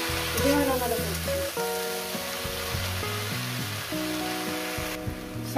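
Water spinach greens and shrimp sizzle steadily in a hot pan, a continuous frying hiss running under melodic background music.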